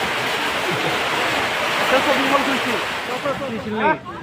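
Rain falling outdoors, a steady wash of hiss heard at close range, with people talking over it.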